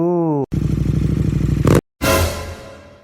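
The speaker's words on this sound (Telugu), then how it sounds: "నర్సన్న మీ ఇంటి దగ్గర ఎవరే బైక్ ఆపి బైక్ మీదనే సరసాలాడుతున్నారు" A motorcycle engine runs loud and close with a steady pulsing throb near a house, cutting out briefly and then returning as a fading rev and whoosh, with no talk.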